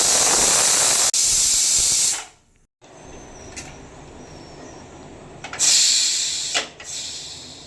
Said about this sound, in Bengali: প্রেসার কুকারে ঢাকনাটা লাগিয়ে দিয়ে 4টে সিটি দেবো।